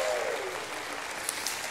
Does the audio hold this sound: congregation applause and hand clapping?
yes